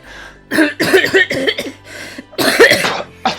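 A person coughs repeatedly in harsh, close bursts, a cluster of hacking coughs, a short pause, then another loud fit and a final cough.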